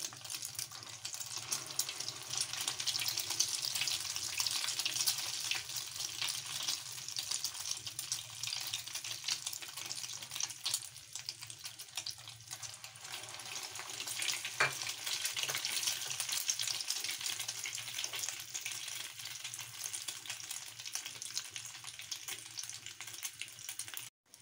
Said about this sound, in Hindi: घी के अंदर आपने ऐसे इसको डाल देना है। आंच आपने स्लो रखनी है इसकी।